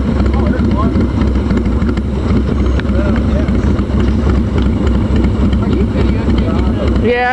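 A motorcycle engine runs steadily and loudly as the rider pulls away, a continuous mid-range drone under faint voices.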